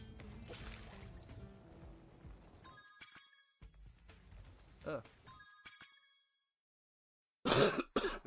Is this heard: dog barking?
no